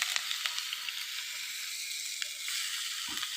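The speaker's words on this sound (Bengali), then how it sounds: "তেল গরম হয়ে গেছে বেগুন আর আলুটা ভাজে নেবো" Eggplant and potato pieces frying in hot oil in a village kitchen, giving a steady bright sizzle throughout with small crackling pops and one brief low knock near the end.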